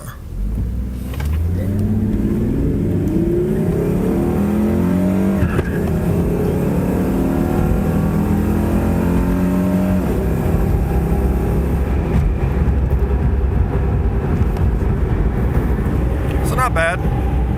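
A 2000 Ford Mustang V6 with 4.10 gears, limited-slip 8.8 rear end, cold air intake and race tune accelerating hard from a stop, engine pitch climbing through several gear shifts, loud and close from inside the car.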